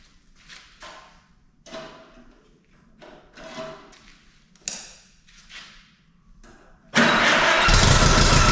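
An Allis-Chalmers WD45 tractor engine, restored and cranked after long sitting, catches and roars into a loud steady run after several seconds of intermittent clunks and fumbling sounds beforehand.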